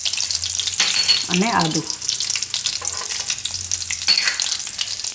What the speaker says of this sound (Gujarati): તો આપણે તેલ ને માખણ 2 ગરમ થઈ ગયું છે. એમાં લસણ નાખીશું આ રીતનું કાપેલું